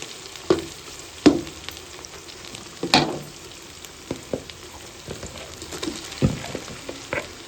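Onions fry and brown in hot ghee in a pan, a close crackling sizzle broken by scattered louder pops and stirring scrapes, with no talking.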